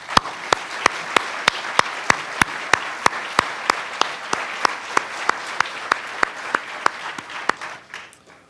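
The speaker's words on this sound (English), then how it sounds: "One final round of applause, please," Clapping at an elementary school awards night, dense crowd applause with sharp, regular louder claps punctuating it at an even beat, fading toward the end.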